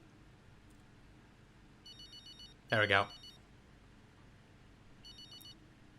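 An old-style telephone bell rings in the F1 23 video game, a couple of short electronic trilling bursts, faint and spaced apart, with someone briefly speaking in the middle.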